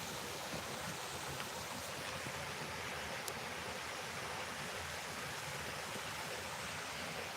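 Stream water rushes steadily near a waterfall along a forest trail, a dense, continuous roar with no talking.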